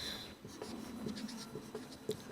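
Chalk or marker writing a single word on a classroom board during a grammar lesson, a quiet, soft scratching of short strokes with small taps, close by and faint against the room's hum, no voice over it.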